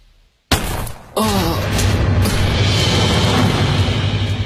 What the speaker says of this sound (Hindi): ये गोली चलने की आवाज थी।